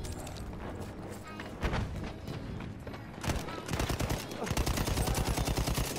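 Battlefield 1 video game gunfire: bursts of rapid automatic shots, growing into a dense rhythmic volley near the end, loud and close within busy game sound.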